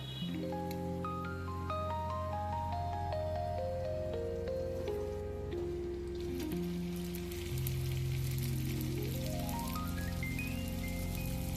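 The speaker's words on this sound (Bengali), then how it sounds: "এভাবে সবকটা গুজিয়া ভেজে নেব" Gujia pastries deep-frying in hot oil give a steady, dense sizzling hiss throughout, with music playing over it.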